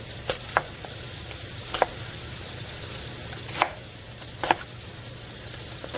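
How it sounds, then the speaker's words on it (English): Onions chopped on a board while a pan sizzles steadily in the background give a few sharp, irregular knife knocks over a continuous frying hiss, with no one speaking. "we're just gonna cut some onions, and it can be big"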